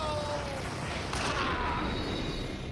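Explosions and gunfire from the action video game Max Payne, a dense, continuous barrage of booming blasts and crashes that stays loud throughout.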